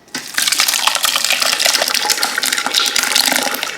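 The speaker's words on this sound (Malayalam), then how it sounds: "നമ്മൾ വേറെ പാത്രം വെച്ച് അതിലേക്ക് കൊട്ടുകയാണ്." Homemade apple cider juice is poured through a small strainer into a vessel, making a steady, close splashing gush with a bright spattering texture that continues without a break after a quick start.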